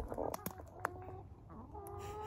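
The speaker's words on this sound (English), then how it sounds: "I want to show you my chickens because they're waiting for some food" Backyard chickens clucking while waiting to be fed beside an herb garden, a loose series of short clucks and chirps from several birds, close and fairly clear with no talking.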